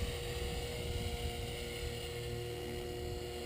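A TRex 500 ESP RC helicopter with a DFC flybarless head, rebuilt after a crash, hovers on a test flight, giving a steady close whine and rotor buzz throughout with no talking.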